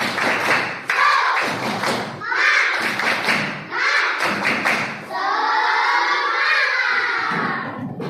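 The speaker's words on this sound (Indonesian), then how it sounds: "Tepuk semangat." Classroom of children doing a rhythmic spirit clap, loud patterned bursts of claps and thuds alternating with shouted chanting, ending in a sustained group shout.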